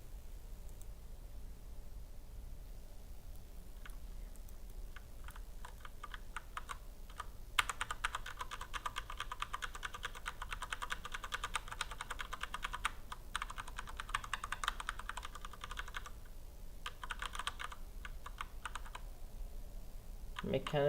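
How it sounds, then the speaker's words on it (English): Continuous clattering keystrokes on a mechanical computer keyboard, moderately close and steady over a low hum, with occasional bursts of faster typing. "mechanical keyboard stuff."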